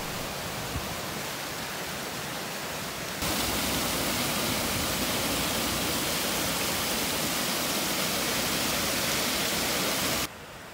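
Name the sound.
waterfall cascade on Oliwa stream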